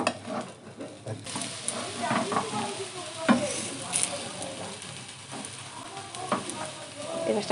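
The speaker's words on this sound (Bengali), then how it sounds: "এই মাছটা ভালো ভাজা হয়েছে।" Fish fries in oil in a pan, giving a steady close sizzle with occasional stirring and scraping sounds, while faint talk runs underneath.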